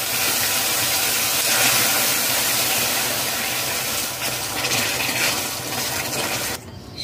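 Water poured into hot melted-sugar caramel in a pan over a medium flame, giving a loud, continuous hiss and bubbling steam that holds steady for several seconds, then drops off abruptly near the end.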